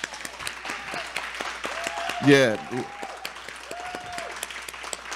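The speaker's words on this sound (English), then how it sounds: "We give a lot of claps here." An audience at a Martin Luther King Jr. birthday breakfast tribute gives soft, scattered applause for two honorees. The clapping stays quiet beneath a voice, with a brief louder vocal burst in the middle.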